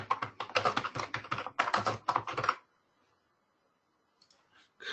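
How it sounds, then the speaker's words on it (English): Quick, uneven keystrokes clatter on a computer keyboard for a couple of seconds, close and crisp, then stop into near silence with a few faint clicks near the end. "Clearly not my best typing day."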